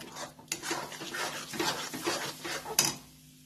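A thick dough for veg mix tikki, cooked like a stiff pithla, is stirred in a pan. A utensil scrapes and knocks steadily against the metal, with one sharp clank near the end.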